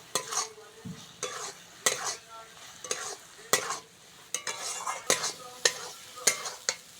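Prawns and masala being sautéed in a pan, with repeated scraping stir strokes over a steady close sizzle, the spatula knocks coming in an uneven rhythm.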